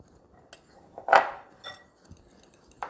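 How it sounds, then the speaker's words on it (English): Utensils clink and scrape against a bowl as keto chocolate chip cookie dough with coconut flour and baking powder is mixed, a few separate taps and one louder scrape, close and fairly quiet with no talking. "And then we're just going to mix all this together."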